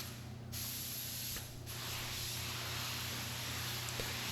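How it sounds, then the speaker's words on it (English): An LVLP spray gun fed by a small air compressor, fan set half a turn in and fluid three turns out from closed, gives off a steady, close, broadband hiss that runs without a break, with a brief dip near the start. "with all of these LVLP spray guns"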